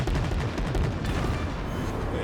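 A torpedo strike destroys a battleship in the naval game World of Warships, heard as a dense, rumbling series of close explosions and booms with a crackling roar that carries through the whole stretch.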